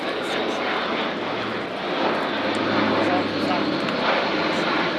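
Loud Europrop TP400 turboprop engines of a German Air Force A400M Atlas military transport roar steadily close by at the RIAT 2025 airshow, a broad continuous drone that swells slightly, with a voice speaking over it.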